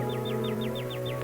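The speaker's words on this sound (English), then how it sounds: "Then you could hear Mrs. Fiorentino's canary." A caged canary sings in a neighbouring apartment in a 1949 radio drama: a quick run of about eight bright, falling chirps repeated evenly, clear and alone over a faint hum.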